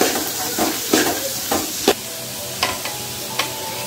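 Vegetables sautéing in a pan for noodles, a steady close sizzle broken by a few sharp scrapes and clinks of stirring spread through the clip.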